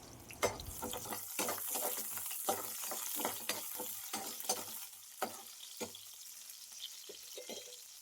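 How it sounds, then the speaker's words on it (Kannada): Onion, garlic and ginger fry in hot oil, giving a soft steady sizzle broken by frequent scraping, clinking stirring strokes in the pan. "ಇವಾಗ ಈರುಳ್ಳಿ, ಬೆಳ್ಳುಳ್ಳಿ, ಶುಂಠಿ ಪ್ರತಿಯೊಂದು ಐಟಮ್ ಹಾಕಿ ಫ್ರೈ ಮಾಡ್ಕೊಂಡು ಬರೋಣ"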